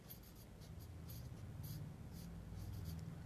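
A pen scratches across paper while math inequalities are written out, a close, quiet stroke-by-stroke scribble with short pauses, alone and without speech.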